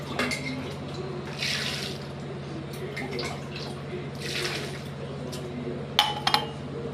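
Water poured a little at a time onto finely ground wheat for homemade papad, heard as two soft splashing pours with a few light clinks and taps near the end.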